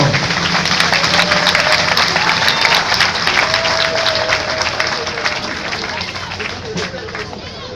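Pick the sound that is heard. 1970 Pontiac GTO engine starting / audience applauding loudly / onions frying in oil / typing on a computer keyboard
audience applauding loudly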